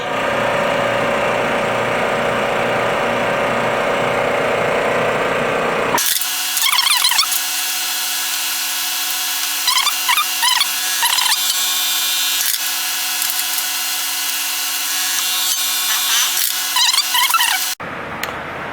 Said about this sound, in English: pressing out the old pistons, getting the rods ready for a new assembly.